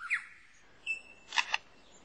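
A lyrebird mimics a camera shutter with a few short, sharp mechanical clicks, close and clear against a quiet forest.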